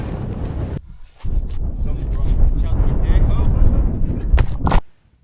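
Strong 30-mile-an-hour gusts at a wild camp by Blea Tarn in the Lake District buffet the microphone in deep, roaring surges, dropping briefly after the first second, then swelling again before cutting off abruptly.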